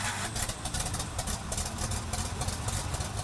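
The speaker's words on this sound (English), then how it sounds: "The tractor you're looking at is a 1956 Oliver Super 77." A 1956 Oliver Super 77 tractor engine idles close by with a steady, throbbing rumble and regular pulsing beats, loud and constant throughout, with no one talking.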